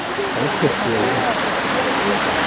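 Steady broadband rush of the Macacu river flowing outdoors in Brazil, a continuous close water noise with voices talking over it.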